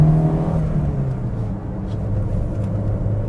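A 2-litre, 16-valve car engine runs at a steady idle: a continuous close, low rumble and hum with no rise in revs.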